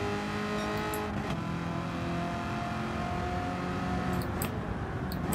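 A race car accelerates through a turn on the American Clubman Cup 700 in Gran Turismo 7, a steady loud engine drone with shifting rev tones and a brief tire squeal, no talking.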